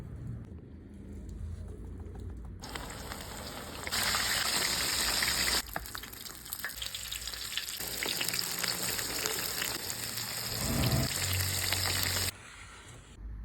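Breaded crucian carp, salted and coated in flour and cornmeal, sizzles and crackles steadily in a hot frying pan, with louder bursts of spattering oil midway and no talking.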